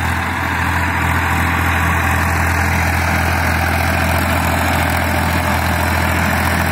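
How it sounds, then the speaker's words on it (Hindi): Small Massey Ferguson 1035 tractor engine pulling a 14-disc harrow through a field, a loud, steady low diesel drone running unbroken throughout. "1035 है छोटा ट्रैक्टर है मैसी का"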